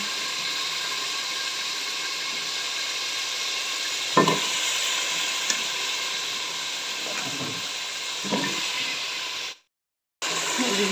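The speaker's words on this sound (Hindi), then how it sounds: "गोभी आलू को मिक्स करती हूँ और अच्छी तरह गोभी आलू की भी बनाई करती हूँ" Cauliflower and potatoes sizzle and fry in a pan with a steady hiss, broken by a few scraping stirs of a spoon, then a brief moment of silence near the end before the frying resumes.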